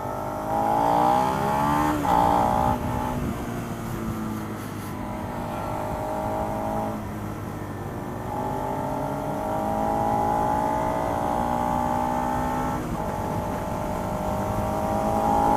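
A Suzuki SV650 motorcycle engine revs and pulls through the gears with rising and falling tones, loud and steady, with no talking.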